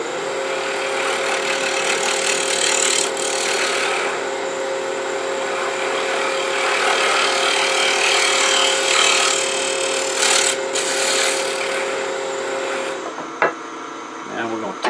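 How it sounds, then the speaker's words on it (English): A negative rake scraper cuts wood on a spinning lathe, making a continuous close scraping hiss over the motor's steady hum, with a few clunks near the end. "I think I'm just going to take a shear scraper, actually a negative rake scraper"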